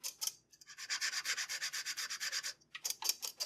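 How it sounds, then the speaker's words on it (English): A whole nutmeg is grated on a microplane, making close, quiet, rhythmic rasping strokes in quick succession, with a brief pause before a few final scrapes. "put your microplane over, and just grate your nutmeg"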